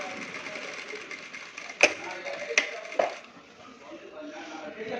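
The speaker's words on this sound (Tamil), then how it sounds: "இது வரைக்கும் தையல் போட்டு வாங்க" A sewing machine stitches a coat-style shirt collar up to a 1.5-inch mark, giving a steady close mechanical whir broken by three sharp clicks.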